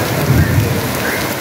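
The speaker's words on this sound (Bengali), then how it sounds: "প্রচুর জোর বৃষ্টি এসছে," A heavy rainstorm with thunder at Eco Park in Kolkata produces a loud, dense roar of pouring rain and a rumbling thunder swell, continuous and close with no voices.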